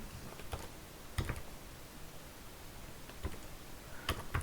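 Keys on a computer keyboard are tapped in a few short, faint clusters of clicks against a quiet room background.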